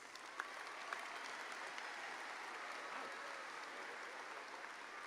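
A crowd applauds graduates at a 2018 MBA graduation ceremony, giving faint, distant, steady clapping that blends into a hall's wash with only a couple of sharper claps standing out.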